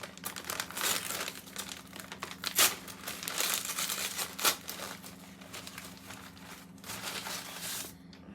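A Burger Singh veg burger's paper packaging being unwrapped close up, a continuous crinkling and rustling with a few sharper crackles and tearing bursts along the way.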